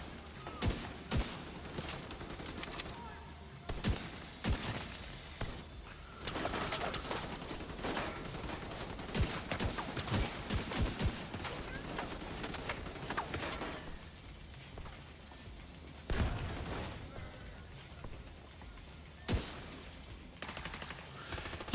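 Rapid gunfire from The Division 2 in a build-testing session, with bursts of sharp shots and clattering automatic volleys firing in uneven clusters, loud and close, and a few quieter pauses between runs.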